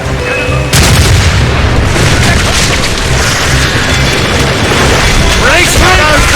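Ship cannons boom in a loud naval battle in the video game Assassin's Creed Rogue, a dense, continuous roar of overlapping blasts with shouted crew voices mixed throughout.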